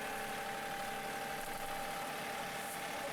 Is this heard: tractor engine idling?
yes